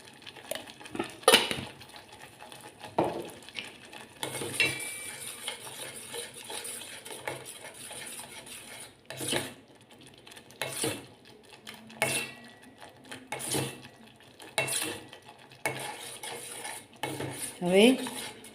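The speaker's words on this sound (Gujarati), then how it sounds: "આવી રીતે એને થોડી વાર સાતળીને આપણે પીઝા સોસને તૈયાર કરી લઈશું" Pizza sauce being stirred in a metal pan on a stove, with repeated scraping clinks of a spoon against the pan and occasional soft sizzling, close and fairly loud.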